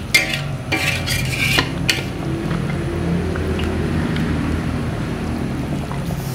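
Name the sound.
turning chicken while cooking in a pan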